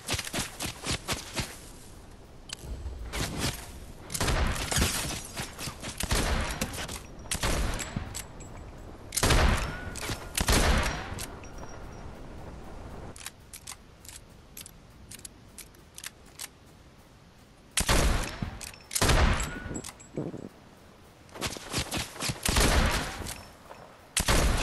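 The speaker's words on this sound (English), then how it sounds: "shooting our bounty" Gunfire in the Fortnite video game, with bursts of rapid shots in dense clusters and short pauses between them, loud and close throughout.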